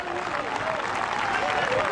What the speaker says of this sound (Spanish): Das un aplauso grande